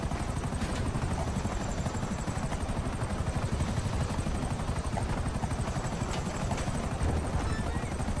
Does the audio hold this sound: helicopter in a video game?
yes